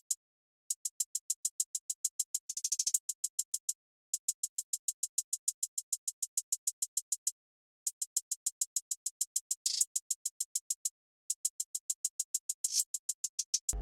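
Triplet hi-hat pattern in an FL Studio trap beat: crisp, thin ticking hats in rapid steady runs with occasional faster rolls, broken by short gaps, playing alone with no voice.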